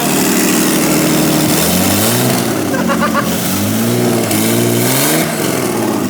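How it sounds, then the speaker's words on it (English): Nissan R32 Skyline engine in a barn-find restoration revving repeatedly after starting, loud rising and falling blips close by with no pauses, a voice briefly audible. "It just started. Yeah, sorry. I'm so rev happy."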